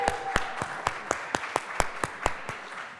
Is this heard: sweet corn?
no